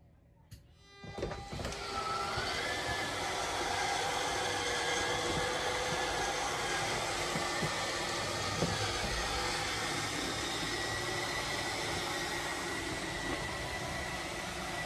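On a 2015 Thor Vegas RV, the slide-out motor starts with a click and then runs as a steady, continuous electric whir for over ten seconds, fairly close and even in level.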